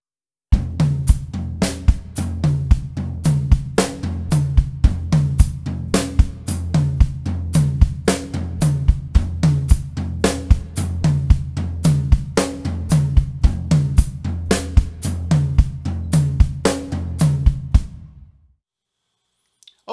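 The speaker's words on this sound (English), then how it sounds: "I'm going to incorporate that by adding it on the offbeats" A drum kit plays an advanced tom beat pattern with the hi-hat foot on the eighth-note offbeats, giving a syncopated feel; rapid, loud, steady hits run for about seventeen seconds without talking, then stop abruptly.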